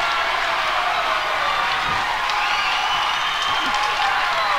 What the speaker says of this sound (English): Crowd on their feet cheering on these Perry Pumas.